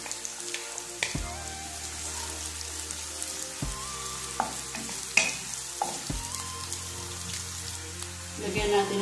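Garlic and onion fry in a pan with a loud, steady sizzle, broken by repeated scraping stirs every couple of seconds as the mix is moved around.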